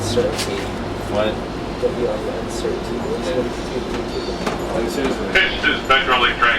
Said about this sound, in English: This is Metrolink train 6 of 8. Orange County Line service to Oceanside.